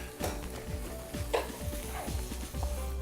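Carrots and peppers frying in hot oil, producing a steady sizzle with a utensil stirring and scraping the pan in an irregular rhythm, close and moderately loud, with no talk.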